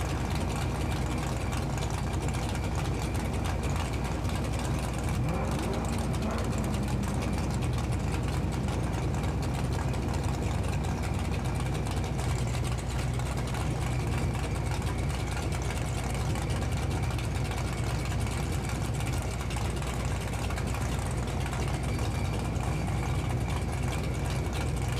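Stick shift drag race cars sit idling in the staging lanes at a grudge race, a steady, loud low engine rumble running unbroken throughout with no talk.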